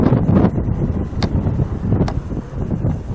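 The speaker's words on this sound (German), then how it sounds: "Leute, ich sage euch, es ist windig" Strong, cold wind outside a car workshop buffets the microphone with a continuous low roar and uneven gusts, a couple of brief sharp clicks cutting through.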